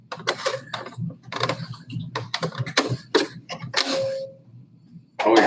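A sewing machine stitches a fabric face mask in short mechanical bursts separated by pauses, with a steady low hum underneath and a final burst starting at the end.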